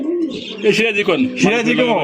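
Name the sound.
Jharna satin pigeons cooing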